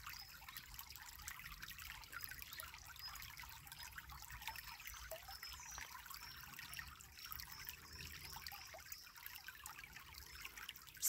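Quiet, steady trickling and babbling of flowing water, a faint continuous stream with no voices.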